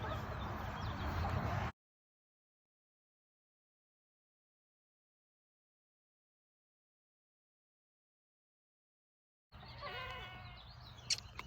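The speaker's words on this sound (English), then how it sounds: "And we got the goaties." Goats on a small farm, kept alongside chickens, heard at the start and end of the clip with a long silent gap between, their sound loud and close with some calls showing a harmonic, bleat-like quality.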